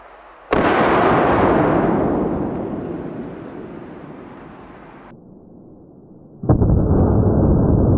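A booby trap fires a .308 round in one loud, sharp blast, followed by a long decaying rumble and then a second abrupt burst of noise near the end.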